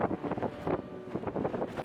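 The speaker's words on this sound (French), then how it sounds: "Il y a énormément de vent comme vous pouvez le voir." Strong wind on a mountain trail buffeting the microphone in low, rumbling gusts, loud and continuous with no voices.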